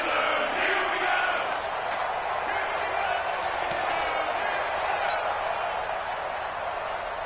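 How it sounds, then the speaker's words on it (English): A constant roaring stadium crowd in an American football video game on PS4, rising in excitement ahead of a big third down, with a few faint thuds and claps over the dense wash of noise. "the crowd getting into it as we come up on a big 3rd down"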